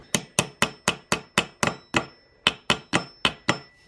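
A small hammer taps on the end of a power steering pump fitting during a repair on a Saab 9-3, giving about fourteen sharp, ringing metallic taps in a quick steady rhythm with a brief pause midway.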